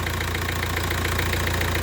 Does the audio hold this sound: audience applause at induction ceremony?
no